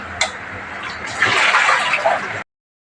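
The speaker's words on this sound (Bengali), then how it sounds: "বালতিতে জল ভরে তাতে ফিনাইল দিয়ে দিলাম" Water runs into a bucket in a home bathroom, a steady rushing pour that swells louder midway before cutting off abruptly, with no voices.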